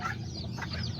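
A backyard hen near her two chicks clucks in a quick, soft string of close, throaty notes with no talking.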